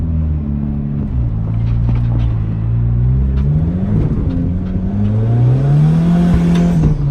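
A turbocharged Honda Civic hatch D15 engine with compound turbos, a Saab turbo and a giant HX55, drones and rises in pitch, revving up and easing off over several seconds with a steady rumbling roar.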